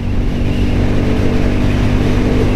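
A car engine drones steadily and loudly throughout, a continuous close-up roar as it pulls hard while accelerating through the gears.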